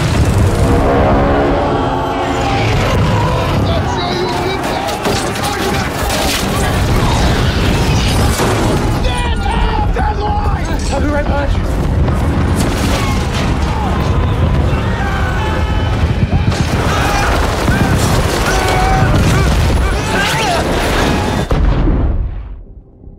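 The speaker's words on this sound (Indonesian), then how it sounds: "pesawat mereka mulai terkena tembakan" Sustained heavy gunfire strikes an aircraft in a zombie film, a dense barrage of loud booms and bursts mixed with a roaring rumble, continuous and close until it cuts off at the end.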